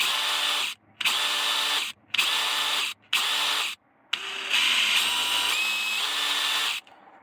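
A Mac 20V cordless power tool whirs in four short bursts separated by brief pauses, then runs in one longer, steady high-speed stretch, close and loud without voices.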